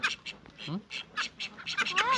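Muscovy ducks give harsh, short squawks in quick succession nearby while a person talks over them.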